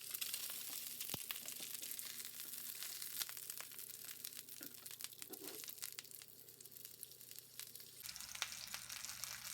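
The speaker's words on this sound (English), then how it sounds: "Have a hot pan, set it down, seam side down, and let it get some color on it" Stuffed chicken, tied with string, sears seam side down in a hot pan with a steady, moderately close sizzle and occasional crackles and pops, no voices.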